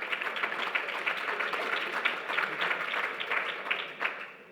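Audience applause from a crowd at a policy panel discussion on plant-based and cell-based meat, steady and dense clapping that fills the whole stretch before tapering off at the end.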